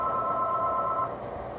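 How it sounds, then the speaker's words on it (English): A phone rings in a home kitchen during a seafood boil, a steady electronic tone held for about a second before cutting off, moderately loud over a low background hum. "Phone's ringing, don't pay attention to that."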